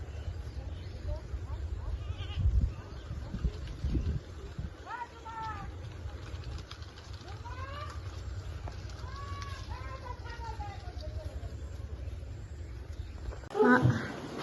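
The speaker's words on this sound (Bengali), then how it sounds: "ওই যে ছাগল" A goat bleats several times at moderate distance in an open rural field near banana plants, the wavering calls recurring through the middle of the clip over steady low background noise.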